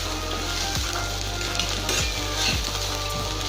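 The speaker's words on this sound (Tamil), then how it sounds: "கொஞ்சமாக கிளறி எல்லாமே மிக்ஸ் ஆச்சுன்னா போதும்." Grated coconut stir-fried in a pan for coconut rice, a close, even sizzle with a few soft spatula strokes.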